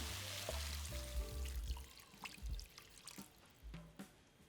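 Water pours into a cooking pot holding browned pork and vegetables, a soft splashing gush in the first two seconds, followed by faint drips and light clatter.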